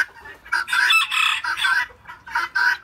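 Serama bantam chickens clucking and calling in a farmyard pen, a run of loud, close, repeated squawking clucks in bursts with brief pauses.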